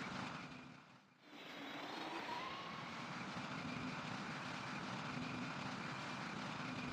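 Boeing 747 jet landing in the flight game PTFS: a steady roaring engine drone with a brief dip near the start, then a constant loud hum with a faint rising tone.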